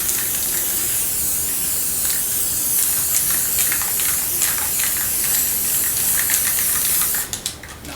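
Spray gun laying a finish coat onto a semi-hollow guitar kit body, a steady close hiss running throughout and breaking into a few short sputters at the end.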